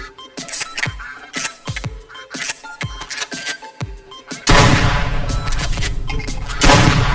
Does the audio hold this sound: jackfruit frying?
no